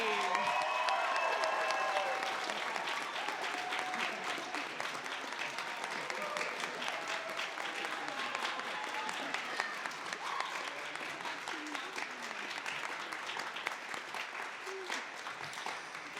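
A school gymnasium or auditorium audience at a high school spring band concert applauds the graduating class, with steady, sustained clapping from a large crowd that fades slightly toward the end as a voice speaks over it.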